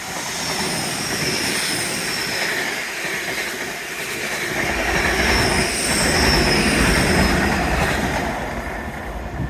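Big train passing by on a grey, drizzly day, a loud continuous rumble with rail clatter and squealing wheels that swells and eases as the wagons roll past close by.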